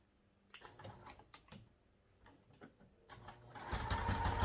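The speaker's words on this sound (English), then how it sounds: "and then we sew down the short side" A sewing machine stitches a crossbody bag, starting with faint, scattered clicks and taps as the fabric is positioned, then building into a steady, louder running whir near the end.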